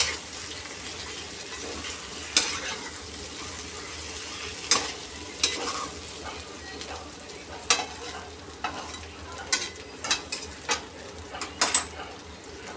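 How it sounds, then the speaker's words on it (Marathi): Stuffed brinjals for vangi masala frying in oil in a pan, stirred with a series of sharp scraping clacks over a steady sizzle, close and fairly loud. "आणि ह्याला छान असं तेलावरती परतून घेऊयात"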